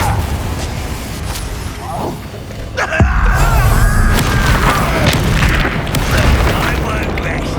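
A fire-type blasting spell, Confringo, erupts in a Hogwarts Legacy duel, a sharp booming crash at about three seconds followed by sustained rumbling and crackle amid ongoing combat noise and scattered voices.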